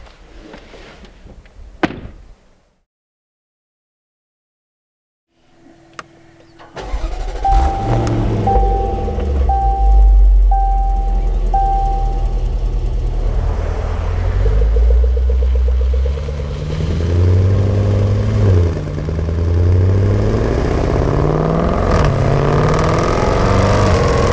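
Jaguar F-PACE SVR starting up after a door slam and short silence, with warning chimes, then a loud deep engine roar settling into a steady drone and surging again as the car pulls away.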